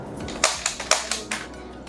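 Zuru X-Shot Hawkeye toy barrel-break shotgun firing a string of about six sharp, snappy plastic cracks in quick uneven succession, close and clear with no talking.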